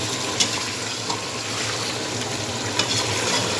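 Long-cut ginger and green chillies frying in a pan with steady oily sizzling, close and fairly loud, with a few light clicks of a utensil against the pan.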